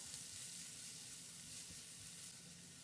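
Finely chopped onion sautéing in a pan for potato curry puff filling, giving a faint, steady sizzle with no talking.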